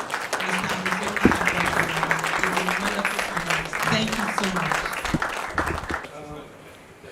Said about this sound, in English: could you all please help me give a warm round of applause to Dr.